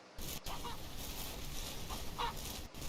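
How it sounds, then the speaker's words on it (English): Chickens clucking and squawking in the King of Retail video game, a few short calls scattered over steady background game noise at moderate level. "Look at these, they're all over the place, these chickens."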